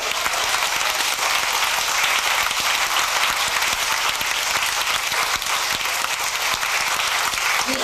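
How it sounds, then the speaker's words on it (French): A church congregation in Martinique applauds steadily, a dense, even wash of clapping that fills the whole stretch without pause. "Applaudissons le Seigneur!"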